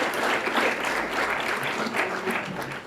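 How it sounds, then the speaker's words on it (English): An audience applauds at the Hollywood Gauteng Awards ceremony, a sustained, full round of clapping that stays strong throughout and eases slightly at the end. "yes, let's give him a round of applause."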